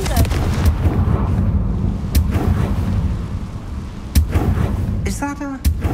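A Confringo blasting spell detonating in Hogwarts Legacy, a booming burst with rumbling low end amid game ambience, followed by sharp crackling impacts and a voice speaking.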